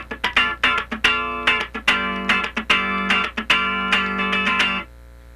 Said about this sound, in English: now let's play a rhythm part that has a little bit longer tone with the left hand